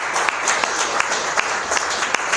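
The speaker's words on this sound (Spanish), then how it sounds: "dale un aplauso." A church congregation claps in steady applause to welcome a guest, a dense, even patter of many hands that fills the room for a couple of seconds.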